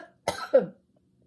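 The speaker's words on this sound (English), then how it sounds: "Cough again, sorry." Two quick, sharp coughs close to the microphone, then silence.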